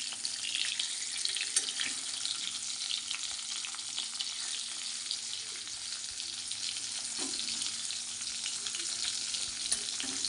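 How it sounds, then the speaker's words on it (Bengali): Hilsa fish heads fry in hot oil with a steady, even sizzle that holds throughout, close and unbroken, with no voices. "ভাজাই ছিল তাও একটু তেলের মধ্যে নাড়াচাড়া করে নেব।"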